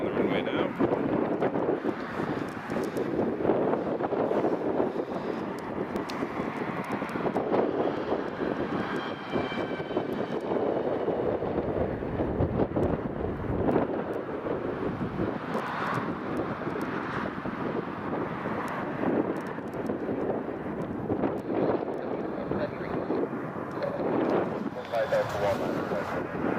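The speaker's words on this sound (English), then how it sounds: "the aircraft just rolling down the runway now" Trade Air Fokker 100 jet rolling down the runway on takeoff at Newcastle Airport, a steady broad engine roar with wind buffeting the microphone, continuous and moderately loud throughout, with a voice speaking over it.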